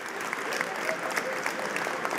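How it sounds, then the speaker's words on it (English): Steady, moderately quiet applause from a large audience for a choir at the opening plenary of the UNEA 4 high-level segment, a dense patter of many hands clapping throughout without speech. "A round of applause for the choir."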